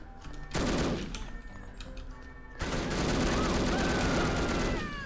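Automatic gunfire in the video game No One Lives Forever, two long dense bursts of rapid shots, loud and close, separated by a short lull.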